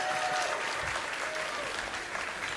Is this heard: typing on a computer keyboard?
no